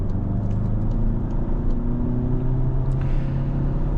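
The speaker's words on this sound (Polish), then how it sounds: "Więc jak tak się depnie, no nawet ambitnie się ten samochód odpycha" A 2019 VW Arteon with a 2.0 TDI diesel and seven-speed DSG gearbox accelerates hard, its engine a loud, close, continuous drone that climbs steadily in pitch, with no talking.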